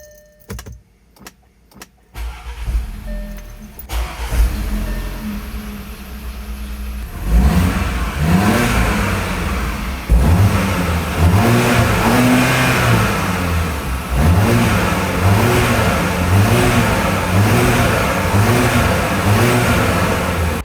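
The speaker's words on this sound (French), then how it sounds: "Ce moteur turbo est vivant et maintenant avec la chaîne neuve fonctionnant avec une synchronisation parfaite sans aucun risque" A turbocharged Audi Q5 engine, rebuilt with a new timing chain, clicks and cranks, then fires up and settles into a loud, close idle before a series of rhythmic revs rises and falls over it.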